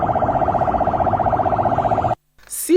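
An ambulance siren wails in a steady, rapid warbling cycle, loud and close, then cuts off abruptly near the end, leaving a brief gap before other street noise returns.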